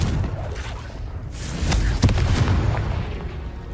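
Confringo fire spell exploding in Hogwarts Legacy, a deep rumbling boom with a sharp crack near the middle, set among ongoing combat noise.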